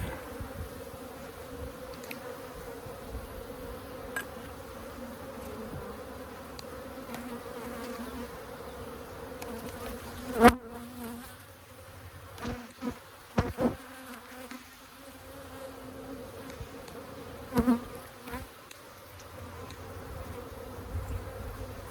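Honey bees buzzing in a steady, moderate drone around an open hive during an inspection in a Holts Summit bee yard, with occasional knocks and handling clicks.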